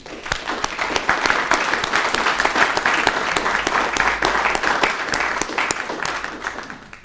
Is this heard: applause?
yes